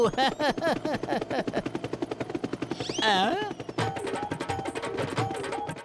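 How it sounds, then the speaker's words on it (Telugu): A cartoon helicopter approaching, with rapid rhythmic rotor chopping that runs throughout. Animated character voices speak over it. "ఓ నో, ఒక హెలికాప్టర్ ఇటువైపే వస్తోంది."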